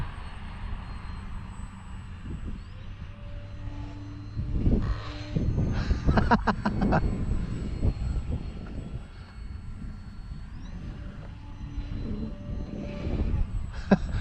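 A small HobbyZone Carbon Cub S2 RC model airplane engine drones and whines overhead, its pitch rising and falling as it passes, with gusty wind noise throughout.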